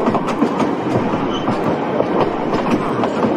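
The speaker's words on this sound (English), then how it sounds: "What a beautiful morning day with the train going on here." A train rolls along the rails outdoors on a morning run, a steady loud rumble with rhythmic clickety-clack of wheels over track joints, close and continuous with no talking.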